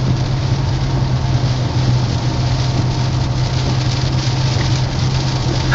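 Heavy rain drums steadily on a car during a Florida thunderstorm. The loud, constant wash sits over a low engine and road rumble inside the moving vehicle, and no one speaks.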